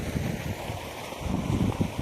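Water from a running farm tubewell pump gushes out in a steady, close rush with a rumbling low wash that grows a little louder toward the end, with no talking.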